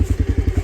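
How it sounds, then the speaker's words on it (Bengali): A motorcycle ridden slowly across an open field by a learner, its single engine thumping in a quick, even pulse of about eight beats, close and fairly loud. "আলু বাইক চালাইতেছে"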